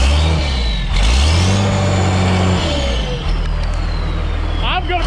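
A 12-valve Cummins diesel in a Ford F350 revs up twice, each time rising then falling back toward a heavy idle, loud and close; voices talk briefly near the end.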